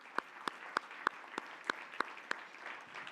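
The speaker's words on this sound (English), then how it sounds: "give you another round of applause" A lone person claps nine or ten times in an even rhythm at an awards reception and dinner, each clap sharp and close, over a faint hum from a large room.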